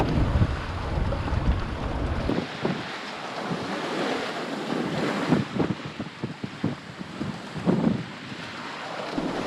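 Strong wind of 20-25 knots buffets the microphone while small two-foot waves slosh and surge against a heeling sailboat, a dense, loud, continuous roar with rhythmic water swells.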